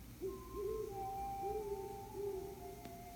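Owl hooting in nighttime woods, a few long steady hoots in a row, faint and distant against a quiet background.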